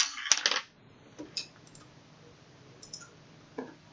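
Computer mouse clicks while working in LTspice: a loud rattling click at the start, then a few faint, sparse clicks alone in a quiet room.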